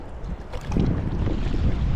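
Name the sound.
strong wind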